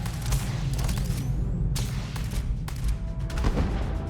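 Rapid gunfire in the video game Starfield, dense overlapping shots and bursts rattling without a break for the whole stretch, loud and close.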